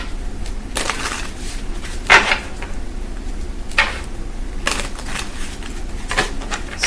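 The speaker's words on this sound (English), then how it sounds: "I want to shuffle first." Tarot cards are shuffled by hand in several separate riffling bursts, each a short papery flutter, with quiet gaps between them; close and fairly loud, no speech.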